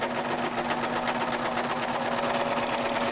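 A sewing machine runs steadily, stitching a seam along the lower edge of a garment, with a continuous even hum and rapid needle chatter that stays loud and close throughout, no voices.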